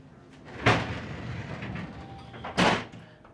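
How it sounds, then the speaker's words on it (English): A pair of bifold doors in a cruise ship cabin are pulled shut, giving two sharp clattering knocks about two seconds apart amid quiet room noise. "there's a pair of bifold doors that you can close"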